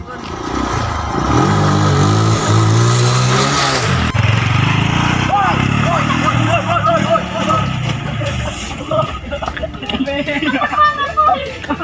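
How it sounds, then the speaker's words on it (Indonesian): Motorcycle engine revving at night during a street scene, loud and continuous with rising and falling revs, mixed with people chattering and shouting close by. "ngabung-ngabung motor, Ken."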